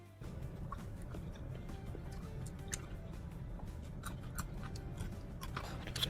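Close, steady crunchy chewing with small biting clicks as a woman eats homemade pizza, continuing throughout without talk.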